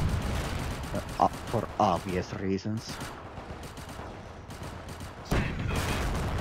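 Cannon fire and gunshots from the World War One game Company of Heroes sound in several sharp booming bursts, with rapid shots in between, as someone talks over the battle.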